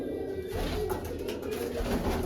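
Pigeons cooing in a coop with several pairs kept in each nest box, a steady low murmur of overlapping coos filling the space throughout, fairly close and continuous.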